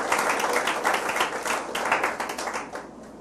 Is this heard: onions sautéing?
no